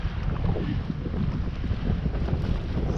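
Steady wind roars and buffets around a sailboat run aground at dusk, with water and rigging noise mixed into a continuous, loud rush and no voices.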